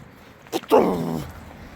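An old dog gives a single short bark or yelp close by at a roadside van stop in Spain, a brief sharp burst that tails off quickly against faint background.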